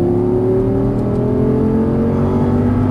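An Audi R8 engine pulls at full throttle on a track, rising in pitch with a steady strong roar heard from inside the car, loud and continuous, with no voices.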